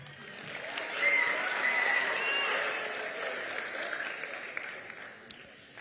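Moderate clapping from a school concert audience honouring outstanding seventh and eighth graders, rising quickly and then slowly thinning out, with scattered voices and a few sharp claps near the end.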